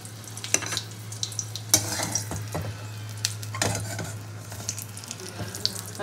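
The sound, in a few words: pointed gourd (potol) frying in oil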